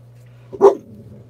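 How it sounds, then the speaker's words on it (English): A single sharp dog bark, close and fairly loud, standing out against a low steady hum. "I don't know why she's barking."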